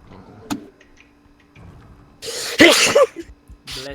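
A person sneezes loudly and close by, a sharp burst with a short throaty tail, following quieter scattered indoor noises and a brief click.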